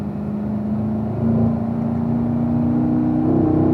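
A race car's engine rises on track as the throttle opens out of a corner, a steady, close droning whine climbing in pitch with no talk over it.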